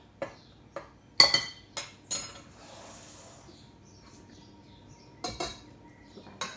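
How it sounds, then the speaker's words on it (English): Courgette muffin batter being mixed in a bowl, dry ingredients folded into wet, with a few sharp clinks of a utensil against the bowl and soft scraping between them, fairly close and without speech. "at this point you can mix in these dry ingredients into your wet ingredients"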